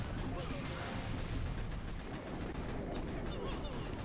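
Scorchers spray weapon fire in a frantic game battle, a dense, steady wash of shots and blasts filling the whole stretch with no pauses.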